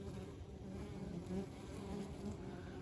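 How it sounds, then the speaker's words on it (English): Steady, dense buzzing of many honeybees close by at a hive, a continuous low drone with no voices. "Say hello to everyone, little bees."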